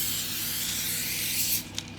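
Cooking oil sprays from a can onto baking paper in a kitchen, one close, steady hiss for about a second and a half, then a short click as it stops.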